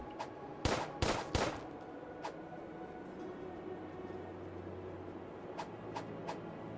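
A few sharp impact bursts from Supernova Gauntlet fist weapon attacks in Starbound, three punchy hits close together early on, then sparse fainter strikes over a low game hum.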